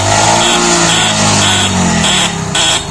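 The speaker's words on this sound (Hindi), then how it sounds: "चलिए हॉर्न बजाइए ज़रा" A motorcycle with its engine idling has its horn pressed in several short blasts over the running motor, loud and close, with no talking.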